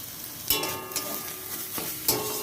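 Banana stem curry being stirred in a pan, a steady sizzle with a few sharp spatula scrapes and knocks against the metal, heard up close without speech.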